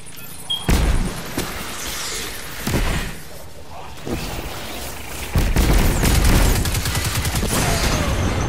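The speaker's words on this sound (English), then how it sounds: "Whoa, that has a big explosion." Explosions and rapid gunfire in the shooter video game Destiny 2, with repeated loud booms and bursts of weapon fire filling the whole stretch and a heavier blast near the end.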